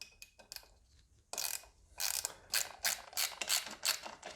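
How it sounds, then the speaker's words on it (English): Two bolts loosened with a 25 Torx tool on a Bosch battery lock, with quiet scattered clicks followed by a run of sharp, rhythmic ratcheting bursts close up. "now you're gonna need a 25 Torx. Let's remove these two bolts."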